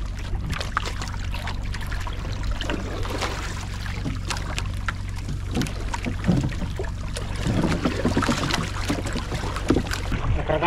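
A motorboat engine drones steadily and low on open water, with splashing and wind noise over it, loud and continuous, with no talk.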